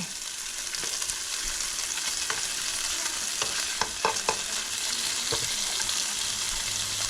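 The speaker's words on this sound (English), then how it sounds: "So we got the onion in here cooking." Onion fries in a pan with a steady, even sizzle, accompanied by a few faint clicks and scrapes of stirring, close and moderately quiet.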